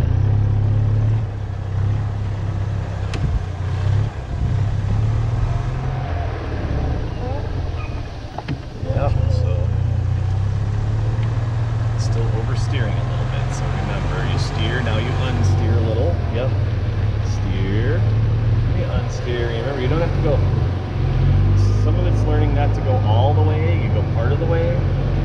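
A golf cart driven by kids hums along steadily with a low motor drone and occasional bumps, while people talk over it throughout.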